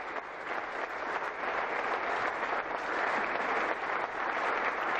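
Sustained applause from Barcelona teammates giving Lionel Messi a standing ovation at his farewell, a dense, steady clatter of many hands clapping together throughout, close and loud with no talk over it.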